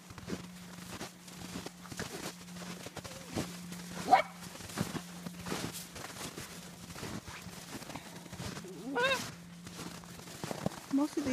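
German line puppies romp outdoors in snow, giving scattered yips and barks near and far amid crunching footsteps, with people talking quietly over a steady low hum.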